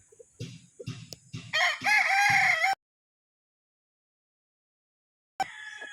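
A street comb breed rooster crows loudly and close, a long drawn-out call lasting over a second, preceded by clucking and other fowl noises and followed by silence before another call begins.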